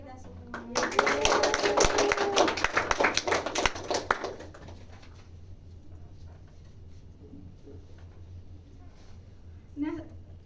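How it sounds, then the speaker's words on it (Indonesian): Classroom applause from a group of students, a dense burst of clapping that starts near the beginning, runs loud for about three seconds and then fades out, with faint talk and room noise continuing afterward. "tepuk tangan untuk kita semua"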